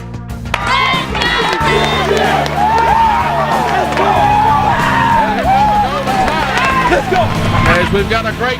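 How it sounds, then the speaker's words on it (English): Large crowd of Peabody fans roaring and cheering at a high school football game against Humboldt, a loud sustained wall of voices with shouts and whistles, and an announcer talking over it. "we've got a great Peabody crowd on hand"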